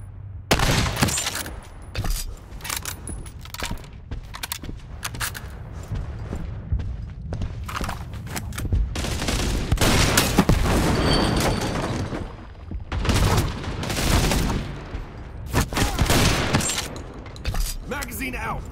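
Repeated loud bursts of gunfire crackle through a match of the mobile shooter World War Heroes, sharp volleys separated by short gaps, with shouted voices mixed in between the shots.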